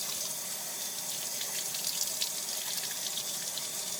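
Tap water runs steadily from a faucet as a puppy is rinsed during its first bath, a continuous splashing hiss with no talk over it.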